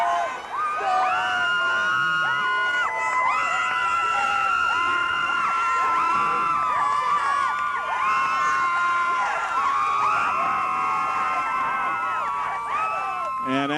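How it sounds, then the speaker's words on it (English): Hopkins fans at a 1995 high school football game cheer and shout steadily, a dense crowd roar with whoops and higher children's yells rising and falling for the whole stretch. "the Hopkins fans fired up now as they take a 20-18 lead"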